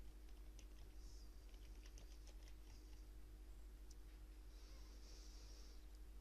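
Fingers tap on a computer keyboard while text is entered into a search field, a quiet, irregular run of keystrokes over a steady low hum with short pauses and no talking.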